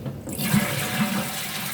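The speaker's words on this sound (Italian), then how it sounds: "Scarichiamo l'acqua" Water rushes steadily from a Geberit AP 117 external cistern as the toilet flushes, a continuous close, fairly loud wash with no voices.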